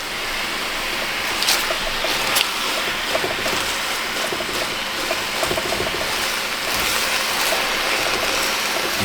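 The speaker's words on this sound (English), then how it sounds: "you hear that cooking in there?" Collard greens cooking in a pot, giving off a steady, close bubbling hiss that runs unbroken throughout with a few faint clicks and no talking.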